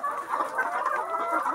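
Hens cluck softly nearby, a low murmuring series of short throaty clucks running together.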